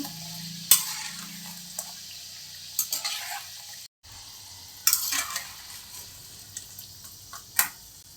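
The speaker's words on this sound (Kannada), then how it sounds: "ಒಂದೇ ಲೆವೆಲಲ್ಲಿ ಇಟ್ಕೊಂಡು ಫ್ರೈ ಮಾಡ್ಕೋಬೇಕು" Spicy wheat flour biscuits deep frying in oil, a low, steady bubbling sizzle broken by sharp clatters and scraping, with a brief cut to near silence midway.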